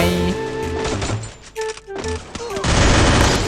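Gunfire rings out in the Free Fire mobile battle game: loud rapid bursts and a heavy volley that drown out the game's tonal effect chimes, ending in a dense roar of shots.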